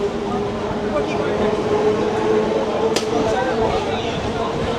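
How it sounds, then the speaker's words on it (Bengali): A Kolkata circular railway local train departs Park Circus station, rumbling steadily along the rails, a continuous low roar with a faint hum and a sharp click partway through. "আমাদের ট্রেন এখন ছেড়ে যাচ্ছে পাক সার্কাস থেকে"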